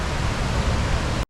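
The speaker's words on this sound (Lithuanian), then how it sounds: "Po šito krioklio nueinu tiesiog" Steady broadband rush of a waterfall in Wales, loud and close, a continuous roar that cuts off abruptly after about a second, with no talk.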